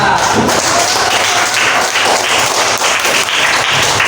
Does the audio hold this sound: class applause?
yes